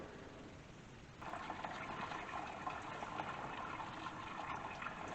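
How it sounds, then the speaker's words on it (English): Radiator fluid drains from a Kubota B6100 tractor during a valve and rocker arm job, a faint trickle that swells into a steady splashing gush after a second and keeps running with no one talking. "Right now we're draining the radiator fluid, taking off the rocker arms."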